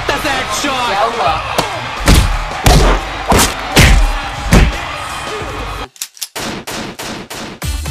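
Loud, rapid bursts of gunfire from the video game PUBG pound close and heavy, with thuds and cracks in quick succession, over busy game sound and a voice.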